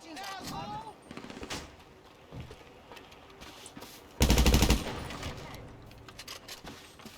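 Gunfire in GTA Online: scattered rapid shots early on, then a loud close automatic burst lasting about half a second, with a player's voice and game sounds underneath.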